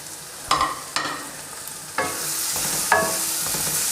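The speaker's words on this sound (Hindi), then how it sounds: "हमारा कीमा जो है ये बिल्कुल अच्छी तरह से भुन चुका है।" Minced meat (keema) sizzles in a pan with ghee and oil, broken by four sharp scraping strokes of a spatula stirring it, over a constant soft frying hiss.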